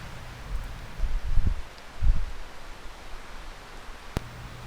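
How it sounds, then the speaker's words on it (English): Wind on a windy night outdoors in Newfoundland, caught by a trail camera, a steady broad rush with low gusty rumbles buffeting the microphone in two stronger bursts, and a brief sharp click near the end. "it's a really windy night"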